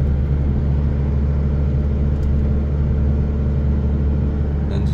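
Fast traffic on a main road in Mecca gives a loud, continuous low rumble of passing cars and engines with no distinct pauses and no talk.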